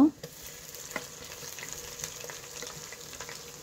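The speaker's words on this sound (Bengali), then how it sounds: "পেঁয়াজগুলো বাদামি রঙের হয়ে আসলে এর মধ্যে আমি আদা রসুন বাটা দিয়ে দেব" Browned onions frying with ginger-garlic paste for a mutton head and mung dal dish, a steady low sizzle with occasional faint stirring clicks, fairly quiet and close, no talking.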